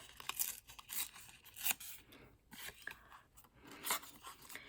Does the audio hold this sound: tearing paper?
yes